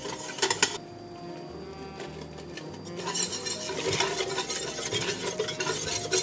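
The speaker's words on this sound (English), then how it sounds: "Scrape the bottom of that pan, make sure you get all that sausage drippings off of there." A roux cooked over medium-low heat with sausage drippings, stirred and scraped across the bottom of a pan, giving close, repeated metallic scraping and clatter that grows busier and louder toward the end, without speech.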